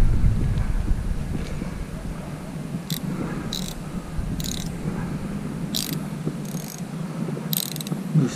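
Fishing reel drag clicking in bursts of short, quick ratcheting runs as a largemouth bass pulls line out while hooked on cut bait, sounding close and fairly loud over steady outdoor background noise.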